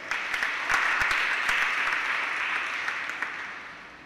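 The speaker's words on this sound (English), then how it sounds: "We give them all a round of applause." Congregation applauding the Sunday choir during a novena Mass at Our Lady of Mt. Carmel, a sustained hall-wide patter of clapping with a few sharper nearby claps, slowly tapering off.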